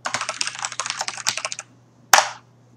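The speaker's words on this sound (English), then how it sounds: "So let's say I just type something random." Rapid keystrokes on a computer keyboard patter close and crisp for over a second, then pause before one final louder key press.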